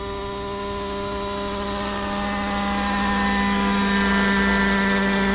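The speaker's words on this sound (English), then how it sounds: "the helicopter's probably all right because the blades should be blowing all the water away." A Miniature Aircraft Whiplash model helicopter flies in light rain at an airfield, its rotor and motor making a steady, tonal whine that swells slightly louder over several seconds.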